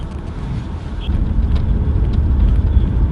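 A car drives through the Chernobyl zone near the Red Forest, heard from inside the cabin as a loud, steady low engine and road rumble with no clear talk.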